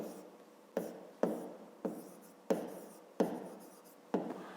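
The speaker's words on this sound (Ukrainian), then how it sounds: "Записуємо тоді перше." Pen on paper writing numbers for a fifth-grade maths exercise: a series of close scratchy strokes, each starting with a sharp tap and trailing off, repeating at an irregular rhythm.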